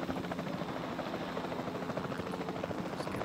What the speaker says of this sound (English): The game won't let me crash my helicopters into each other.